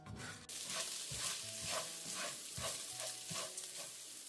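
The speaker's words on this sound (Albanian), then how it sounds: "E shtojmë tani orizin te qepa dhe në tiganin e nxehtë vazhdojmë e fërgojmë për 2-3 minuta" Rice fries with onion in a hot pan off the flame, a soft continuous sizzle broken by rhythmic stirring scrapes roughly every half second, close up.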